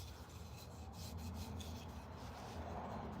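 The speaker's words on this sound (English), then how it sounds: "But I'm trying to roughen the handles a little bit." Rough rasping and rubbing on the wooden handle of a small hand-made carving knife, a steady close scraping texture that continues without pause and without talk.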